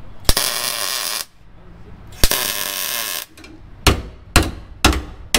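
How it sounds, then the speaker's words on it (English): Loud metallic hammer blows ring out as metal patch panels are hammered into a car's fenders, two long sustained strikes followed by three sharp, quicker hits on sheet metal. "I'm going to start tacking them in here and just hammering them into place."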